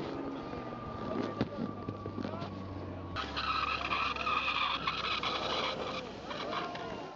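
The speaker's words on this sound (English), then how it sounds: "Can you hear that awful squeal of the wheel?" An aircraft lands on the snowy runway at Courchevel, its wheel giving a harsh squeal over a steady engine rumble, loud and fairly close, with a sudden shift in tone partway through and no clear talking.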